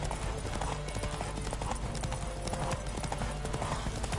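Horse hooves gallop in a steady clip-clop rhythm while riding in The Witcher 3: Wild Hunt video game, loud and continuous, with game combat sounds and music layered underneath.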